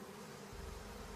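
Honeybees buzzing in a dying colony struck by colony collapse disorder, a steady, close, dense hum that grows fuller partway through the short stretch, with no voices.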